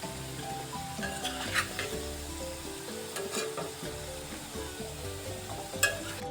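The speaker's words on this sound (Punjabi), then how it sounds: "ਆਲੂ ਅਸੀਂ ਮੀਡੀਅਮ ਫਲੇਮ ਤੇ ਫਰਾਈ ਕਰ ਰਹੇ ਹਾਂ ਜੀ" Potato pieces fry in oil over a medium flame for an aloo baingan dish, with a steady bubbling sizzle and occasional close stirring knocks and scrapes.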